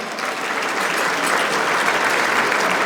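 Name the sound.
audience round of applause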